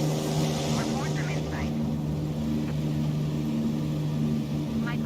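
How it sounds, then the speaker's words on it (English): A Supermarine Spitfire Mk1a engine in a flight simulator drones steadily with the canopy closed, a muffled low hum carrying a faint whistling tone, with brief squeaky artifacts and no speech over it. "It does dampen the noise, and then you can hear the whistling of the noise of the engine much better."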